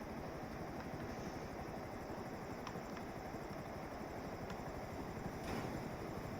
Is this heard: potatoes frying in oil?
no